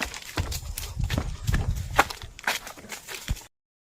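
Hooves of a horse near a well sound in irregular, close thuds and scuffs on the ground with a few sharper knocks, fairly loud for about three and a half seconds before cutting off abruptly.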